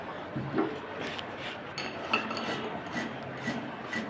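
Roasted cumin and radhuni seeds being ground on a stone, giving a steady close rasping and rubbing with a few faint clinks, no voices.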